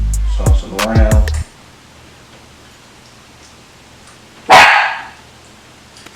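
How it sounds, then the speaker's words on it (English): A dog barks in a home kitchen during peach cobbler baking, a quick cluster of close, loud barks followed by quiet room tone and one more sharp bark near the end. "Excuse the dog."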